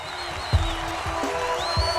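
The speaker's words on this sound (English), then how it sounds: "Hear the crowd going mad" A broad, steady roar of a cricket crowd cheering Temba Bavuma's maiden Test century, dense and continuous with scattered applause, no clear talk over it.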